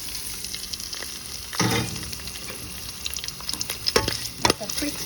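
Seasoning sizzles and crackles in two tablespoons of hot oil in a pan, with a steady frying hiss broken by louder bursts of stirring and spoon scrapes.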